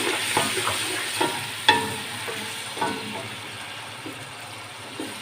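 A spoon stirs beef pulao ingredients with ginger, garlic and salt in a sizzling pot, making repeated close scraping strokes over a constant frying hiss, with no talk.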